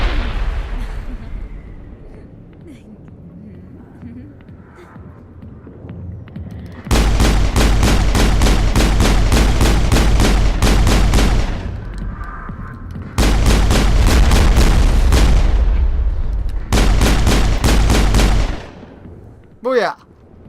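Grenade blasts and rapid gunfire in the Mass Effect 1 video game come in two long, loud bursts of dense repeated shots, separated by quieter background and followed by a brief final crack.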